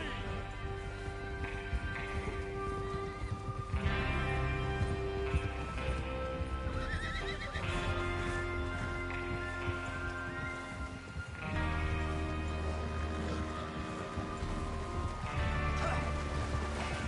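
Horses in a video game clip-clop along at a steady trot, with several neighs and whinnies cutting through the hoofbeats.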